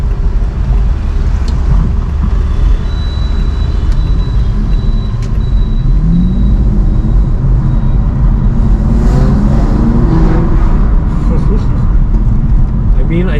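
Aston Martin DB9 V12 engine in sport mode, revving and pulling hard on a rough road, a loud continuous low roar with wind and road rumble, rising toward the end as a voice talks over it.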